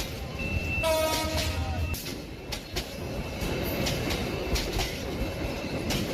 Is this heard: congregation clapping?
no